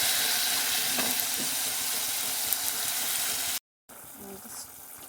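Chicken pieces fry with ginger garlic paste in a pan, giving a loud, continuous sizzle close by that breaks off briefly and then resumes more quietly.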